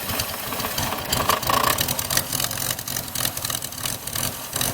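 A 2003 Ford Escape engine with a bad EGR valve and the idle air control unplugged idles roughly, a close, uneven mid-pitched rumble with irregular knocking pulses throughout.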